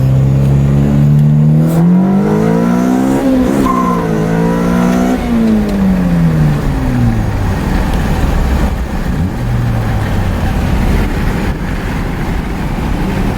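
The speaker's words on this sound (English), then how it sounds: "Okay, we're in first gear. Here we go." A Honda car with a B20 VTEC engine, fitted with a new intake manifold and throttle body, pulls hard in first gear, its loud engine note climbing steeply in pitch, easing off, then holding a lower drone from inside the car.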